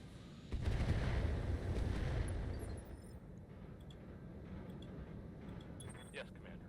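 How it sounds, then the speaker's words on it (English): A mech's ammunition cooks off in the Battletech video game, a heavy booming explosion that swells and rumbles for a couple of seconds before fading into a lower sustained roar, with a voice speaking over it. "The mother of all ammo explosions."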